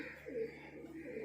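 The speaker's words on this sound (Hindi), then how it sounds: "ये मेरे सफ़ेद मोमिनो के कबूतर हैं जी।" White Momino pigeons coo softly at close range, a couple of low, rolling calls over a steady background hum.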